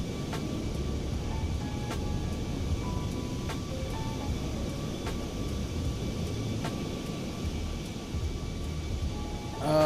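A Boeing 737 MAX 8 airliner climbing after takeoff in Microsoft Flight Simulator 2024, heard as a steady low engine rumble with faint periodic clicks and tones over it.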